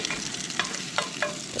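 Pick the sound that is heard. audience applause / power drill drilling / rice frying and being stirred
rice frying and being stirred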